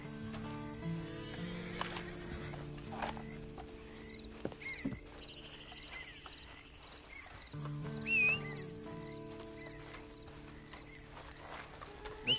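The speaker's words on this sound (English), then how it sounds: "And you better get on this horse." Horse in the Red Dead Redemption 2 video game giving a short neigh and snorts amid a quiet game ambience, with faint hoof sounds and scattered effects.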